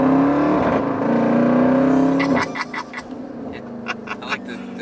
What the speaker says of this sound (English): I like the backfire spits